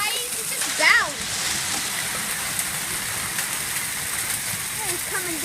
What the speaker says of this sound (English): It's coming down hard. And then there's rain with it.